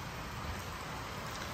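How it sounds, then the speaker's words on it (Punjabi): Steady rain falls through a morning downpour at a campsite, a dense, even hiss of drops across the whole clip with no gaps and no voices. "ਮੀਂਹ ਅੱਜ ਸਵੇਰ ਦਾ ਪਈ ਜਾਂਦਾ"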